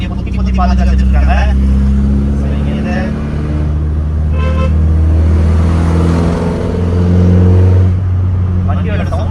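A modified 2.4L Honda Accord engine drones loudly from inside the car, its steady low harmonics rising and falling as it revs while accelerating.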